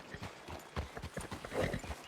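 A horse in a roleplay video game clip-clops along with soft, quick, evenly repeated hoof strikes, faint and close, with no voices.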